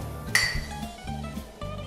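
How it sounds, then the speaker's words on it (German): A spoon stirs microwaved low-fat mac and cheese in a dish, giving a sharp clink followed by soft scraping and a few quieter knocks against the dish. "ich verrühre das hier nochmal kurz."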